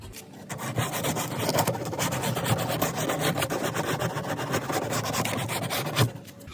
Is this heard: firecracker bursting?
no